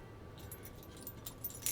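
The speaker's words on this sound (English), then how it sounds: "we also got new keys. Some new keys over here." A new set of car keys for a Mustang, jangled close by in a series of light metallic clinks that grow toward the end, faint and without talking.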